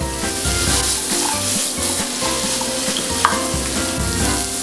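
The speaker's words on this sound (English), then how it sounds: "Stir them up." Paneer and fox nuts (makhana) sizzle loudly as they are stirred in a frying pan, a continuous close crackle with soft scrapes running throughout.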